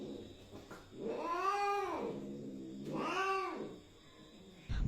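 A female cat yowls in two long, loud, wavering cries with a short pause between them, close to the listener, during mating.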